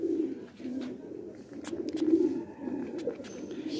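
Pure-blood pigeons in a pen coo in soft, repeated low throaty phrases, close and moderately loud, with a few faint chirps and clicks in between.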